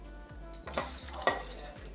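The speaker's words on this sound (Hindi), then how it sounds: "साथ में ये दही, और इसमें मैं इनमें से आधी प्याज मिक्स कर लूँगी।" A spoon stirs and scrapes yogurt and onions together in a bowl while preparing vegetable biryani. Soft rhythmic scraping and a few light clinks sit close over a steady low kitchen hum.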